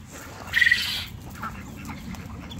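On a homestead, a duck gives one short, moderately loud burst of quacking, with fainter animal sounds and low background noise around it.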